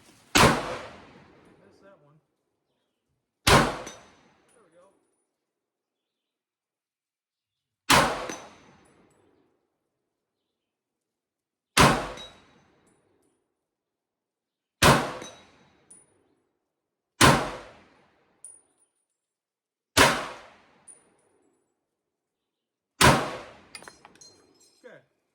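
An M1 Garand rifle fires eight sharp, loud shots at steel targets, spaced a few seconds apart, each crack followed by a short ringing decay.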